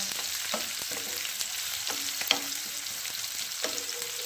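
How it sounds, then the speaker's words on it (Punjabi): Sliced onions frying with ginger in a pan for sangri sabzi, a continuous close sizzle punctuated by scraping stirs and a few sharper clinks, alone without speech. "ਹੁਣ ਆਪਾਂ ਪਿਆਜ਼ਾਂ ਨੂੰ ਭੁੰਨਾਂਗੇ ਜੀ ਚੰਗੀ ਤਰ੍ਹਾਂ"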